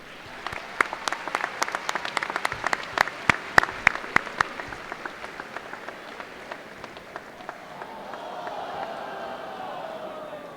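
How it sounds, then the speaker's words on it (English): An audience at a 2018 Logansport High School commencement ceremony claps loudly in a dense burst of applause that fades into a low crowd murmur. "Please join me in giving them a round of applause."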